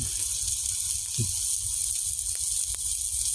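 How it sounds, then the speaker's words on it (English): Burgers sizzle while cooking at a campsite, giving a constant bright hiss with a few faint clicks and pops. The hiss carries on alone at moderate volume, with no talking. "That sizzle tells me it's doing its job, it's cooking."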